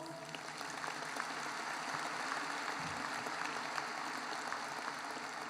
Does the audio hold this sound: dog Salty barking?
no